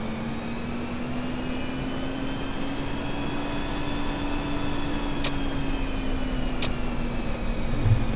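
Airbus A320 NEO jet engines in X-Plane 11 whine and hum steadily in a continuous close drone, pitch slowly rising then easing, with two faint clicks midway.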